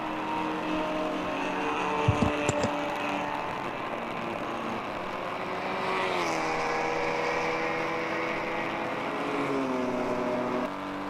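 Endurance race cars at Watkins Glen, a continuous engine drone with pitch sweeps as cars accelerate and pass, heard from a distance at steady moderate loudness, with a couple of brief sharp knocks near the start.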